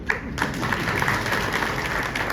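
An audience at a party workers' rally applauds in a steady, dense wash of clapping from a crowd, moderately loud and continuous.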